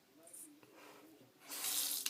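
Water runs briefly from a tap at a sink during face painting, a soft hiss that swells near the end after a quiet start.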